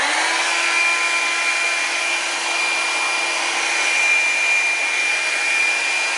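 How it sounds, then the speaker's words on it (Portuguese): A hair dryer runs steadily at maximum temperature, heating the thermostat housing of an Enxuta Master Power dishwasher, a constant loud whirring blow with a thin whine and no talking. "Então agora eu tô com o secador de cabelos ligado."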